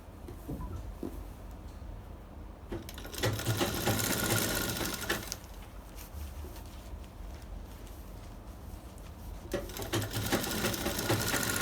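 A sewing machine stitches piping onto a blouse without cord, running in bursts of fast, rhythmic clatter separated by quieter pauses and light handling, close and fairly loud.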